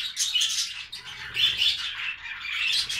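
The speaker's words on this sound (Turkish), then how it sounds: "Şu an burada ortalama 12, 16, 28 tane kuş var." A flock of budgerigars chirps busily in an aviary, a dense overlapping chatter of twittering calls that runs steadily throughout, fairly close and lively with no talking.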